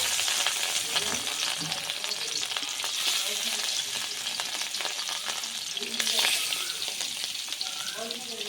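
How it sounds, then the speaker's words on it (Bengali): Pieces of rui fish fry in hot oil with a loud, steady sizzle and crackle that continues throughout, close up. "তো আমি মাছগুলো দিয়ে দিচ্ছি ভাজার জন্যে"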